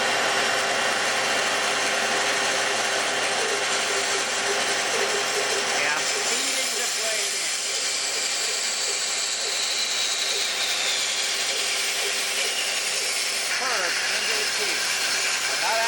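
Shop vacuum running steadily in a woodshop beside a bandsaw, a loud continuous broadband whoosh and hiss that fills the whole clip, with faint workshop sounds underneath.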